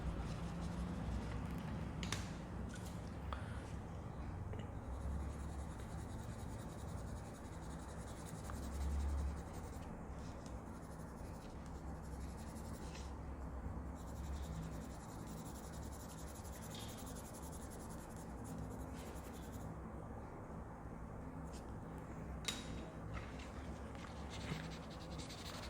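A soft 6B pencil shades rocks on paper with a steady, quiet scratching and rubbing, continuous strokes up close, alone without talk.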